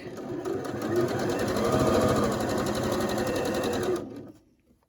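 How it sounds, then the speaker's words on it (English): A sewing machine stitches fabric for a curved quilt block, running steadily and close for about four seconds with a rapid even whir, then stopping and fading to quiet. "always sew a couple stitches to get started, and then I'll start shifting my fabric."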